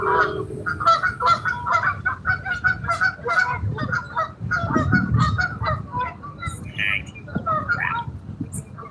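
Geese on a freshwater trout-fishing bank keep up a dense chorus of loud, overlapping honks nearby, while a person talks beneath the calls.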